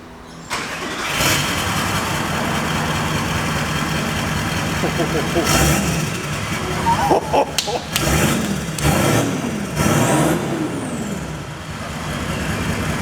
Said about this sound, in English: the new exhaust is fitted by De Graaf, and we're about to lower down the 200 and hear this